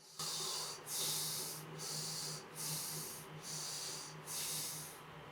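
Slow, deep breaths drawn in and pushed out through the nose during a Mushti mudra practice, six close, breathy rushes in an even rhythm with short pauses between, over a faint low hum.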